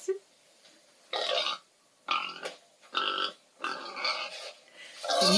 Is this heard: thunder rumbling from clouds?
no